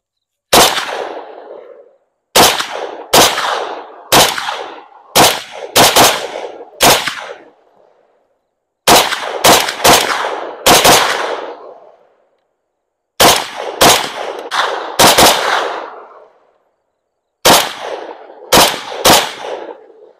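M70ab2 rifle firing a full 30-round Croatian magazine: loud, close gunshots in quick bursts of two to five, each with a short ringing echo, separated by brief pauses.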